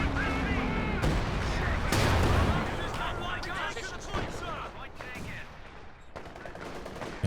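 Anti-tank guns fire in a Company of Heroes 2 battle, sharp booming shots mixed with bursts of gunfire and explosions in dense, continuous layered combat, with a voice talking underneath.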